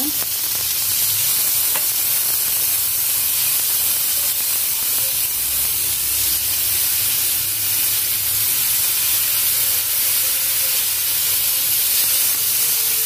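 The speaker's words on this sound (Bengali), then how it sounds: "এখন আমি আস্তে আস্তে একটা একটা করে শাসলিকের কাঠিগুলো বসিয়ে দেব" Chicken shashlik skewers frying in a pan give a loud, dense, continuous sizzle and hiss that holds steady and close throughout, with no voices.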